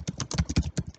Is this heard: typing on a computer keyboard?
yes